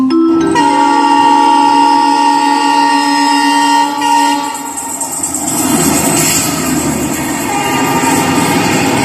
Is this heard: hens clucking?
no